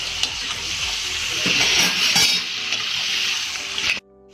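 Potato pieces frying crisp in hot oil for Indo-Chinese chilli potato, a loud, bubbling sizzle with clinks and scrapes of stirring that cuts off abruptly near the end.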